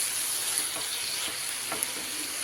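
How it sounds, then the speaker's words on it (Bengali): Potato, eggplant and bethua greens are stirred together in a pan, a bright continuous sizzle with a few soft scrapes of the spoon, close and alone without speech. "আলু আর বেগুন আর শাক ভালো করে আমি মিশিয়ে দেবো"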